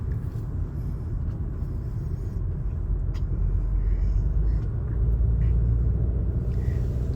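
A 2023 Toyota RAV4 heads onto the highway, its cabin filled with a steady low engine and road rumble that swells slightly as it accelerates, with no talk over it.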